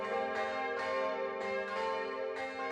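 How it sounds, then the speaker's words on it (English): Church bells ring in a repeating pattern, several resonant strikes with long ringing overtones overlapping one another, clear and moderately loud. "Other instruments that came to be largely associated with Christianity and calling the faithful to prayer were bells."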